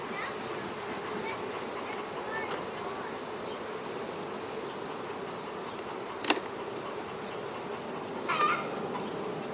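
Honey bees from an opened hive frame fill the air with a continuous soft buzzing hum, steady and close, broken by a couple of brief sharp clicks or knocks near the hive.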